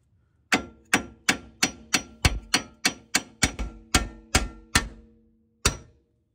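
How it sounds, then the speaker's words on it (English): Hammer blows on a stuck bumpsteer part under a 1999-2004 Mustang: about fourteen sharp metallic clangs with ringing tails, close and loud, coming in a fairly even rhythm before a pause and one final strike. "let me find my hammer and go to town here"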